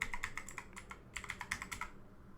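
Fingers tap out a short word on a Windows 11 computer keyboard, two quick bursts of light, crisp keystrokes with a brief pause between them, quiet and close.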